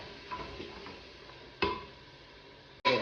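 Tomatoes frying with onion and garlic in a pan are stirred, giving a soft steady sizzle with light spoon scrapes and clicks, then two sharper knocks near the end.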